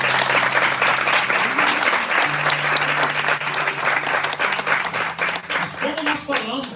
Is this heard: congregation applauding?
yes